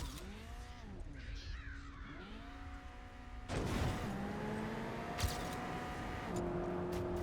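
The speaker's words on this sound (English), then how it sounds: "I love how this car sounds like a vacuum cleaner." A car engine in the Trackmania racing game, a whining, vacuum-cleaner-like drone that shifts pitch as the car steers and accelerates, louder after a sudden change midway, with no talking.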